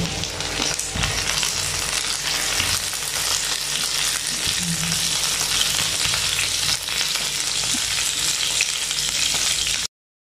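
Tomato, onion and garlic sizzle steadily in a frying pan, a loud, continuous crackling fry with occasional stirring clatter, close up and without talk for about ten seconds.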